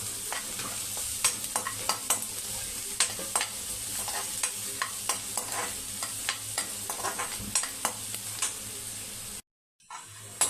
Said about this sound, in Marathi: आता आपल्याला परत एकदा व्यवस्थित परतून घ्यायचंय